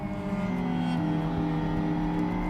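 A racing motorcycle on a track drones at high revs, loud and close as if recorded on board. Its engine note holds steady with a slight rise in pitch throughout.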